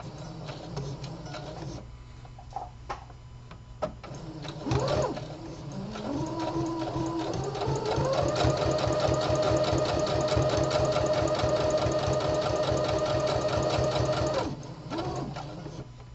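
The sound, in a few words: home sewing machine stitching a lapped seam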